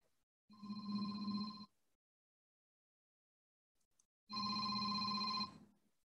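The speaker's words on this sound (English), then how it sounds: "Had a phone call." A telephone rings indoors in two long, steady electronic ring bursts about three seconds apart, clear and moderately loud in an otherwise quiet room.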